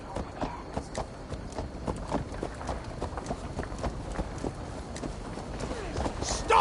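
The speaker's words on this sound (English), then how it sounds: "Stop that horse!" A horse gallops in Assassin's Creed Valhalla, its rapid, rhythmic hoofbeats pounding steadily throughout at close range, with voices talking over it.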